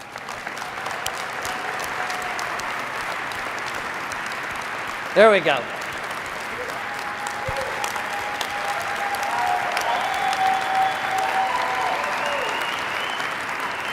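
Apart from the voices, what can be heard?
audience applause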